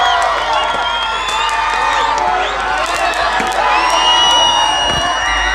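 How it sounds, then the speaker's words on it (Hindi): An outdoor election rally crowd at Khyaban Nishat Chowk cheers, whoops and shouts loudly, with some clapping mixed into the dense, close roar of voices. "एक बार जोरदार तालियां भाइयों।"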